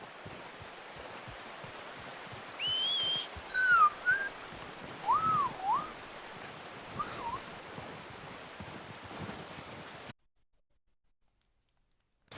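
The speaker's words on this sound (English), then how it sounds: "I just learned that I was whistling like a fucking idiot" A character in Red Dead Redemption II whistles a few short, rising and falling melodic phrases over a steady wind-like rush in a cold outdoor setting, then the sound drops to near silence.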